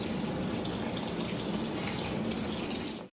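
Water rushes steadily through a pipe to fill aquaponics tanks, a continuous loud hiss and gurgle close by that stops abruptly at the end.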